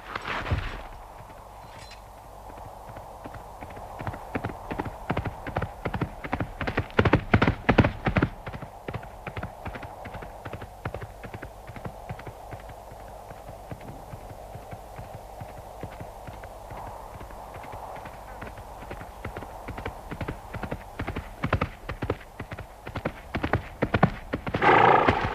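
A horse in a medieval crusades-era setting near Jerusalem, hooves clip-clopping steadily and loudly at a walk for the whole stretch, with whinnies rising near the start and end.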